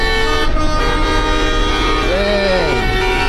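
Car horns honking in traffic on a busy truck route, loud sustained tones with a short bending blast near the end, close by.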